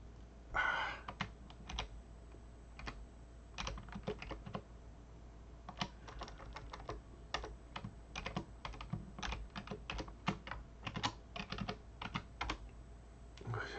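Fingers tapping out a password on a computer keyboard, bursts of quick, light key clicks separated by short pauses, close by and quiet with no talking.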